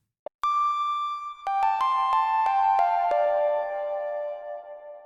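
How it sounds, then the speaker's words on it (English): Synthwave lead synth drenched in Logic's Chromaverb Cave reverb preset: one held note, then a rapid descending run of struck notes with long washy tails blurring together, ending in a sustained decaying tone, alone. "let's add some reverb. Let's go ahead and add the stock Chromaverb inside Logic"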